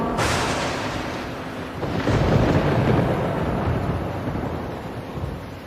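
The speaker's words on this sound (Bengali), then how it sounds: "ঠিক তখনই পাশে খুব জোরে একটা বাজ পড়ে।" A loud, close thunderclap from lightning striking nearby in a forest setting, a sharp crack followed by a deep rolling rumble that slowly fades, with no voices.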